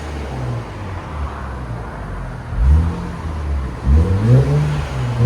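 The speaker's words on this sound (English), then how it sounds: "Yeah, you can hear the blowout valve." Infiniti Q60 3.0L twin-turbo V6 exhaust rumbles at idle, then blips twice in quick rising revs with a brief hiss as the blow-off valve vents, loud and close.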